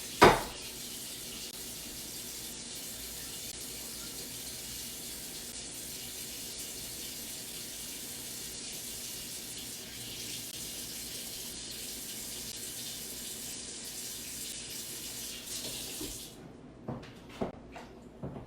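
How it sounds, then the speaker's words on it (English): Tap water running into a pot to cover a rinsed corned beef in a home kitchen, a steady hissing stream for about sixteen seconds before cutting off, followed by a few light clinks. "and then I'm filling it with water just to cover it."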